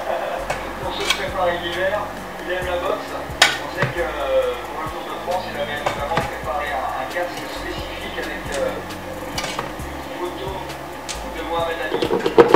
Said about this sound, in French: je mets 5 cuillères à café, mais moi je les remplis jamais à ras-bord